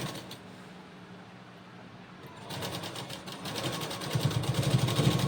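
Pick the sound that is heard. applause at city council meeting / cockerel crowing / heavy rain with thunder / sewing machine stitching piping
sewing machine stitching piping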